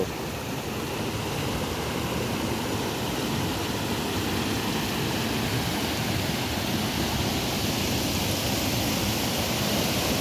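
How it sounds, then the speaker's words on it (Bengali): Waterfall pouring forcefully into a large pool below a crumbling rock ledge, a dense, steady roar of crashing water that holds at constant loudness throughout, close by, with no voices. "এখানে ঝর্ণার পানি পড়তেছে, অনেক সুন্দর ভাবে পানি পড়তেছে এখান থেকে"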